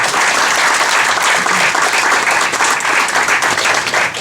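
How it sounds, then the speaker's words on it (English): Parents and students applauding at a valedictorian ceremony at the Museum of Bronx History, a loud, continuous wash of clapping from a sizeable indoor crowd. "please take a moment to give yourself a round of applause"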